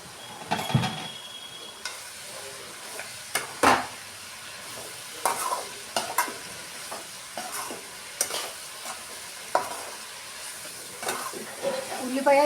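Garlic and onions fry in a pan for a red chili chutney, giving a low, steady sizzle broken by scraping stirs and the clinks of a spoon at uneven intervals.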